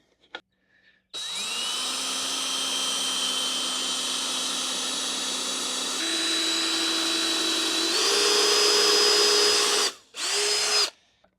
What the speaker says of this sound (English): As I'm drilling underneath.